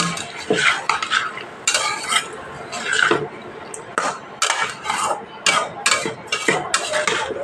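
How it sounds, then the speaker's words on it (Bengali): Spoon stirring and scraping a pan as spice paste is sautéed with ridge gourd, potato and a little water for a rohu fish curry, in repeated close scrapes and clinks with faint sizzling underneath. "এখানে আমি অল্প পরিমাণ একটু জল দিয়ে সবজির সাথে মশলাটা কষিয়ে নেব"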